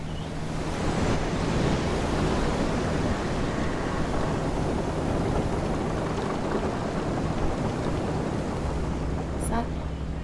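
Water waves wash and surge in a continuous broad roar, loud and close, with no clear break for several seconds.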